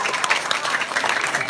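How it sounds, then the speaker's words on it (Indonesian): Audience clapping at a live Calonarang performance at a Balinese village temple, a dense burst of many hands applauding steadily and fairly close, with no clear voices over it. "tepuk tangan sarang sami"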